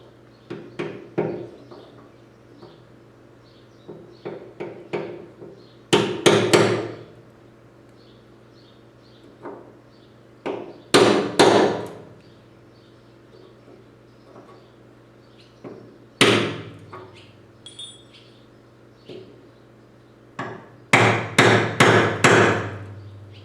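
A chisel is struck with a hammer against the front fuel tank of a 1994 Ford F150, giving clusters of sharp metallic blows separated by quieter pauses, close and loud.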